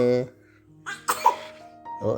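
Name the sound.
child coughing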